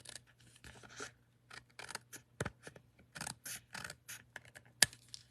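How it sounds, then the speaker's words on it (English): Scissors snip through designer series paper in a crafting session, a series of close, crisp cuts in uneven bursts with short pauses between strokes, one sharp click near the end, no talking. "So you just cut right along that designer series paper."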